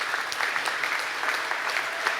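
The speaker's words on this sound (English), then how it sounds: "Please, one final round of applause for everybody here at the awards." Steady applause from a crowd at an awards event, dense clapping filling the whole stretch at an even level with no voices.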